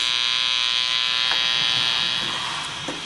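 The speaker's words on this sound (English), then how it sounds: "And it is coming from the power station." A steady high-pitched electrical whine and buzz from an EcoFlow Delta 3 Classic portable power station, loud and constant, with faint clicks and a slight drop in level near the end.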